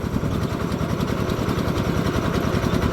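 The engine of a well-drilling rig runs as it pumps water up from a newly drilled groundwater borehole. It makes a steady, close, rhythmic chugging throb that stays even throughout, with no voices.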